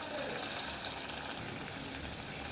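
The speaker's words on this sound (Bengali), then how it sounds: "এবার আমি তেলের মধ্যে দিয়ে ভেজে দেবো, ভেজে ফেলবো" Egg and potato filled pitha fry in very hot oil with a brief, continuous bubbling sizzle, close and moderate in volume, with no voices.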